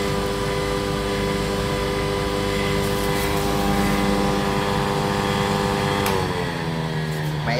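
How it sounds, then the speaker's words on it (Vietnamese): A soybean grinding and pressing machine runs steadily with a close, loud, even motor hum and the whir of its turning millstone, a constant drone with no pauses. "Máy nó quay rất là êm, nó chỉ nghe tiếng cái động cơ thôi, nghe tiếng đá quay thôi."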